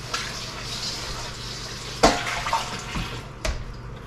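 Moose meat being rinsed under running water in a home kitchen, a steady gush with a few splashes and clunks near the middle and end, close by and unaccompanied by talk.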